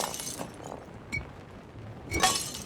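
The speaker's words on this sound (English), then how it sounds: "Also the sound of broken glass." Glass breaks in the video game Indiana Jones and the Great Circle: a faint tick, then a sharp shattering crash with tinkling shards near the end, over quiet ambient background and no talk.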